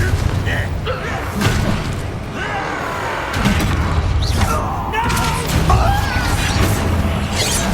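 A Confringo blasting spell goes off in Hogwarts Legacy with heavy booming impacts and crashing bursts, loud and close, mixed with combat effects and a voice speaking.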